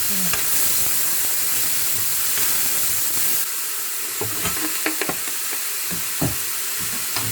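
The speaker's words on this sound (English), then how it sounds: "Put 250 grams of minced meat in the frying pan." Minced meat frying in a pan with cooking oil gives a steady, close hiss and sizzle, with scattered clicks and scrapes from stirring, no talking.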